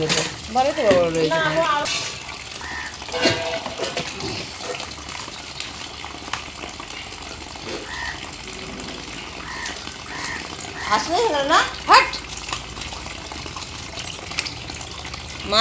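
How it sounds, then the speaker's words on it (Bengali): Tap water runs and splashes steadily while fish, including large prawns, are washed at home, with voices talking over the flow throughout. "মাছটা ধুয়ে নি মাছটা ধুয়ে তারপরে ওখানটা ধুয়ে নিয়ে"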